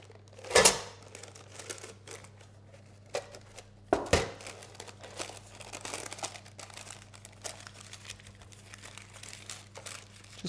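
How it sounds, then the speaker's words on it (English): Parchment paper crinkles and rustles as it is pressed into a loose-bottomed cheesecake tin, with a sharp crackle near the start, another around four seconds, then soft, close, continuous handling sounds under a low steady hum. "Just push it into the sides of the tin and then just carefully remove the paper."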